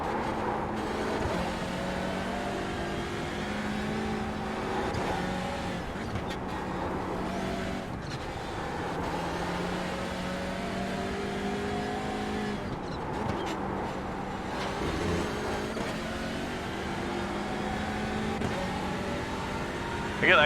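Race cars, a Porsche and GT3 machines, in a Nürburgring endurance racing game, engines droning steadily with shifting tones as they run and pass, continuous mid-level roar throughout.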